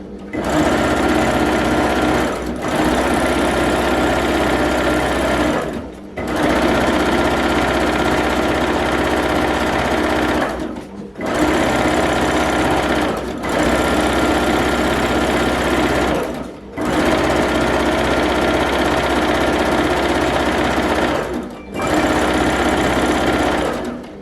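A sewing machine quilts a block in long, loud, steady runs of four to five seconds, each broken by a brief stop, close and without talk.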